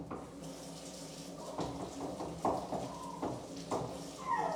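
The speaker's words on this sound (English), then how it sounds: "let me rinse this off real quick" A kitchen tap runs while an onion is rinsed under it, a soft, uneven splashing with a few louder gushes and knocks.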